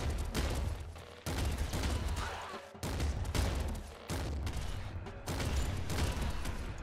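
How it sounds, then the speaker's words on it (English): Hand cannon blasts in the roguelike shooter Nuclear Throne, several loud heavy volleys of about a second each with abrupt cutoffs between them. "Hand cannon's pretty goddamn good here, to be honest."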